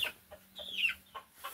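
Chickens cluck in a new, freshly cleaned poultry building, a few short separate calls with one rising squawk, fairly close against a quiet background.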